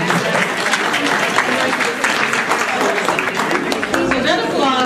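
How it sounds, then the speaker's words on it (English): Loud, close audience applause during a community college presidents' panel, a thick continuous roar of clapping hands that holds steady, with some voices mixed in. "So that applause is for all of you because you've hung in here for a pretty long day."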